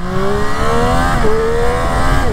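Triumph Street Triple 765 RS (2023) motorcycle pulling onto a motorway, its engine note rising steadily through the gears, then dipping at a shift and climbing again, loud and continuous with wind rush, a rider speaking briefly over it.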